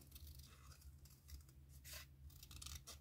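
Scissors fussy cutting around a shape in paper, a string of short close snips and rustles with soft paper handling between cuts over a steady low hum.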